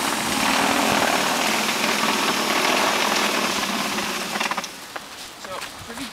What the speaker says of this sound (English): So this is the Toro power shovel.